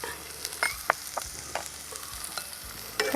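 Onion and chili with a pinch of turmeric and chili powder sautéed in a pan: a quiet sizzle with several sharp spatula scrapes in quick succession, no speech.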